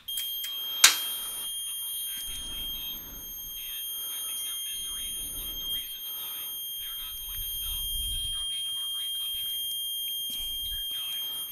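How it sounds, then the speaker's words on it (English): A piercing, high-pitched alarm tone sounds continuously, with a sharp click near the start and muffled voices and handling noises underneath. "Okay, so that's a fire alarm"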